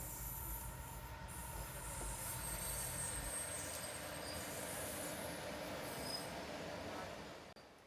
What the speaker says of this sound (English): Here comes the Madgaon Mangaluru passenger, the oldest train on the Konkan Railway line.